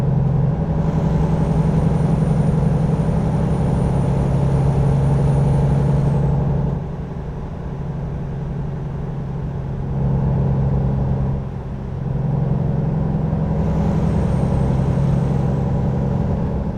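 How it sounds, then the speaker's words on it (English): Truck air brakes hiss in American Truck Simulator while driving north in California, long bursts of high airy release over a loud steady diesel engine drone, close and unbroken by talk. "so I'll tap on the brakes here and slow down a bit myself"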